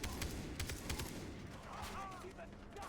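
Rapid bursts of gunfire in Far Cry 3, a few sharp shots early followed by a busy, fairly quiet battle bed, heard under a player's speech.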